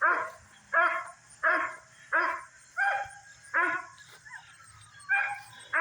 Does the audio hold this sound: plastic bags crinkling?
no